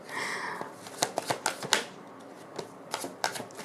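Tarot cards are shuffled and drawn, a brief riffle followed by a string of crisp close card snaps and slaps, clear and alone with no talk.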